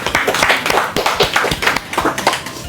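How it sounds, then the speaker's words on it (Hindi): Audience in a hall clapping loudly together, a dense burst of applause with sharp hand claps throughout, close and steady with no voices heard. "भाई इस दुआ के लिए बहुत सारी तालियां"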